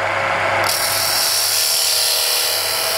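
A beading tool ground from a power hacksaw blade is pressed into a spinning workpiece to cut rows of small beads, giving a loud, steady high whine with a shift in pitch partway through, with no talking.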